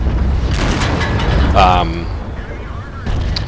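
Loud tank cannon shots and armor hits in the World of Tanks video game boom under a player's talk, with a sharp impact and a metallic ringing ricochet partway through.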